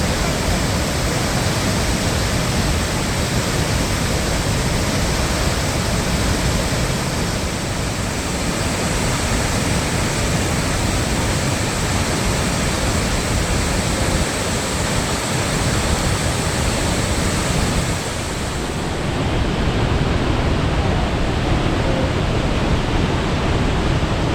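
Sambuyeon waterfall, a three-tiered 20 m fall on the Hantan River, roars after heavy rain in a loud, unbroken wash of rushing water that holds steady throughout, with no voices.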